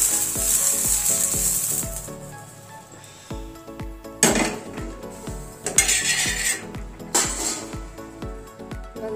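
Toor beans and chillies roast in a pan with a soft sizzle, punctuated by sharp clinks and scrapes of a spoon against metal and short louder bursts of frying, close by with no speech.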